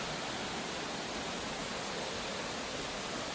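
A large waterfall at the end of a rough trail with slippery steps, pouring as a steady, dense roar that fills the whole clip with no voices over it.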